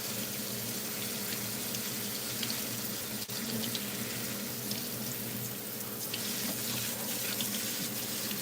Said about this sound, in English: So I'm just gonna use some salt and wash them off.